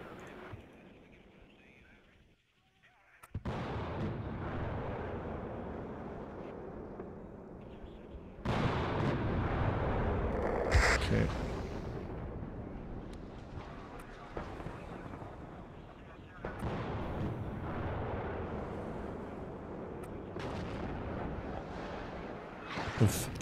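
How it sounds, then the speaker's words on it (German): Artillery fire rumbles in the strategy game WARNO: a steady stream of heavy, broadband booms and blasts, loud and close, rolling on with no real pause. A voice talks over the barrage at times. "Er schießt ja weiter mit seiner Artillerie"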